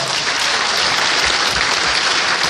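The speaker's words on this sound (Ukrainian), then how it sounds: "Оплески для вас." Loud, dense applause from a concert audience at the Halytskyi Shlyaher 2015 song contest, a steady wash of clapping filling the whole moment without a break.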